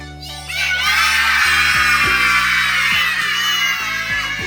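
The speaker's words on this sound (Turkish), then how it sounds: "Bak şimdi çocuklar nasıl bağırıyor." Children at a puppet show shout for help together, a loud sustained crowd yell lasting several seconds over music, very close and noisy.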